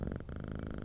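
A cat purrs in the Quarantine Zone video game, a steady rhythmic rumbling purr with a brief break, close and soft, heard alone.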